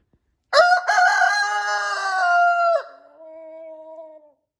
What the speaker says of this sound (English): Everybody needs a shop rooster.